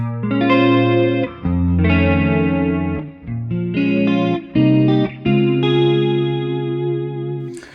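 Clean electric guitar plays a short jazz fusion chord-and-melody phrase through a Boss DD-3 delay pedal, each note trailing into delayed repeats and a soft reverb wash.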